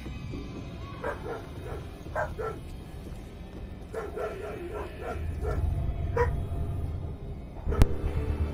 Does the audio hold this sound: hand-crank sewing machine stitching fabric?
no